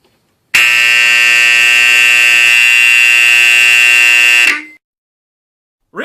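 A loud, harsh fire alarm buzzer blares continuously for about four seconds at a steady pitch, then cuts off abruptly into silence before a brief restart at the end.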